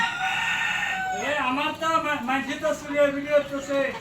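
A rooster crows amid clucking chickens at a poultry farm, with a voice talking over the birds.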